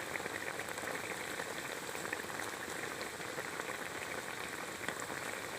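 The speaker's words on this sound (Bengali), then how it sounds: "দেখুন খুব সুন্দর ফুটছে" A vegetarian mock-fish curry boils in a pot, a faint, steady bubbling and spattering that continues evenly throughout.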